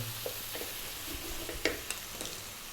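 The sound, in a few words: tomatoes added to a hot pan with turmeric and chili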